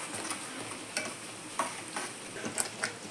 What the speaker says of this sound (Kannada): ಇದಕ್ಕೆ ಹಾಕಿ ಕಲಸ್ಬೇಕು ಎಲ್ಲ ಮಿಕ್ಸ್ ಆಗೋ ಹಂಗೆ ಇದು ಮಾಡಬೇಕು